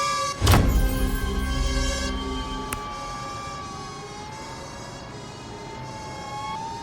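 Emergency siren from an ambulance in the Global Rescue game, a sustained wailing tone gliding up and down beside a sharp burst at the start, fairly loud and unbroken, with no talking.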